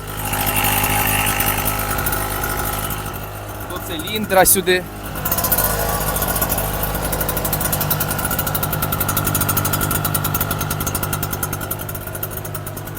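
A small generator engine runs at a steady, buzzing idle, close by, with someone speaking over it briefly in the middle.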